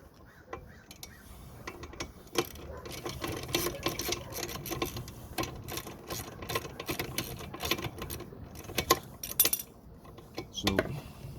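Bolt being worked loose and removed from the storage box on a Trikke, a run of metallic clicks, rattles and ratcheting taps at close range, irregular and fairly quiet.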